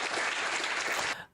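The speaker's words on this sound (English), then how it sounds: "That one person in the back had to start clapping before the rest of them did." An audience breaks into applause, a dense, loud burst of clapping that holds steady for about a second before quickly cutting off and fading.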